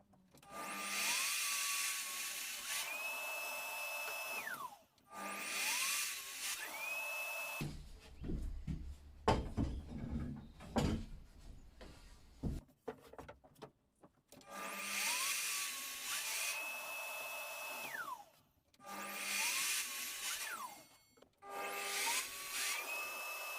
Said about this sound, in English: So these two pieces that I'm cutting here are for the front of the bar and the framework